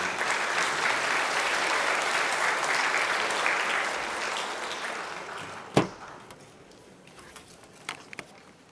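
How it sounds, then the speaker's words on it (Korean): An audience at a Catholic diocesan pastoral training session gives a welcoming round of applause, dense steady clapping for about five seconds that fades out, followed by a sharp knock and a few faint scattered sounds. "큰 환영의 박수 부탁드립니다."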